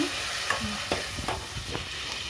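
Onion paste frying in a pan for a small-fish curry gives a steady, close sizzle, with a few scraping stirs spaced through it.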